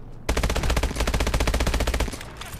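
Automatic gunfire in the Call of Duty: Advanced Warfare campaign, a loud, sharp burst of rapid shots in a steady rhythm lasting about two seconds before cutting off.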